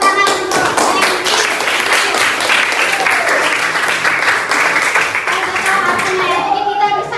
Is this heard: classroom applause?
yes